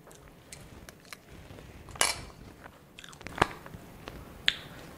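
Crunchy fried green peas being chewed up close, a few sharp crunches standing out over quieter soft chewing.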